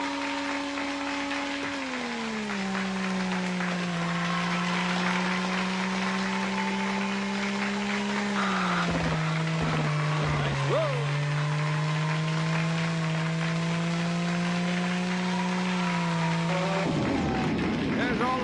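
Race car engine in an arcade driving video game drones steadily at a held pitch, shifting down midway, with a short rev and skid near the end; a voice talks over it at times.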